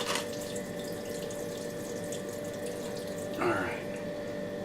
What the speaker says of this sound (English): let's get our coolant going. Make sure we're flowing here.